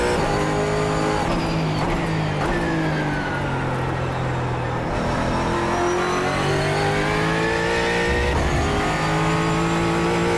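A GT4 race car in a racing video game, engine revving continuously and shifting through gears in a loud, steady drone, with occasional tire squeal and no talking.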